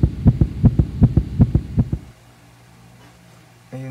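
Heartbeat sound effect thumps in about a dozen quick, evenly spaced double beats, loud and close, then cuts to a low steady hum with a brief tone at the end.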